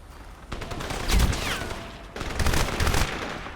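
Rapid bursts of gunfire from a light machine gun and turret in the video game Crysis, two loud sustained volleys of automatic fire separated by a short gap.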